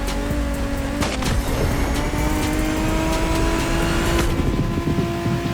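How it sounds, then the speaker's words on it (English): A BMW Z4 M40i roadster engine drones steadily in The Crew Motorfest, loud and close, holding a sustained revving tone with slight pitch shifts and faint tire noise, no talk over it. "We have prepared a classic for you from a very famous German brand, the BMW Z4 M40i."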